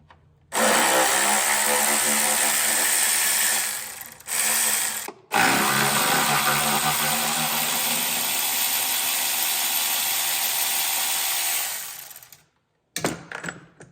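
Power tool whirring steadily while removing the 8mm upper intake bolts on a 2018 Dodge Caravan engine, loud and close, in long runs of several seconds with brief pauses between bolts and a short final burst.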